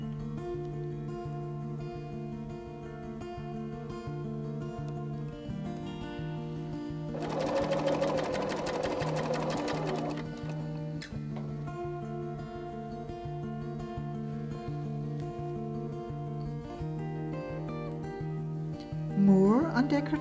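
BERNINA sewing machine with a Clear Overlock Foot stitching bias tape: a steady low mechanical hum runs throughout, with a louder, faster burst of stitching in the middle and a brief clatter near the end.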